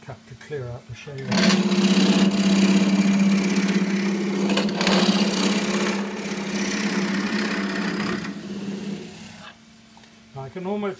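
Wood turning tool cutting crossgrain green ash on a lathe to shape a spatula pot, a steady loud buzzing hum of the spinning work under the tool for about seven seconds, with someone talking before and after.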